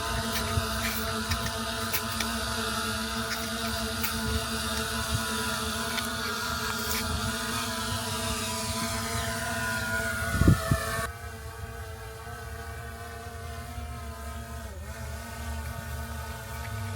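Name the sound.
drone motors during takeoff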